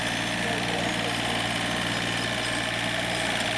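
A John Deere mower engine drones steadily and loudly while cutting terraces on a ranch, with a continuous rumble throughout.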